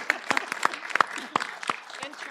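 A few scattered claps at a panel event honoring authors, sharp and separate, sounding like a small audience clapping sparsely for a brief moment with no voices over it.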